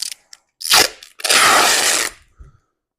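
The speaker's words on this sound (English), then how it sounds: "I'm just going to run some tape along that center join." Two loud bursts of sellotape being pulled off a roll, a short rip followed by a longer tearing screech, close up with no talking.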